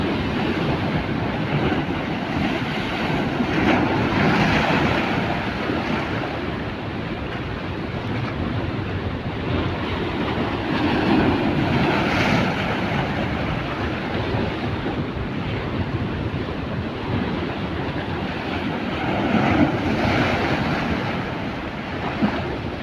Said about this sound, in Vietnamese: nghe tiếng sóng là nổi dây ghê rồi